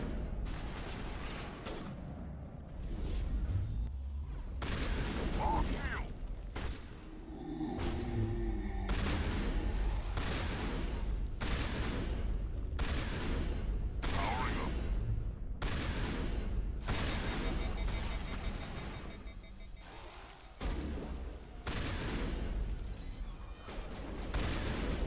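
Gunfire from the Mass Effect video game comes as repeated sharp bursts and booms in bursty volleys, with mechanical clanks between them over steady game ambience.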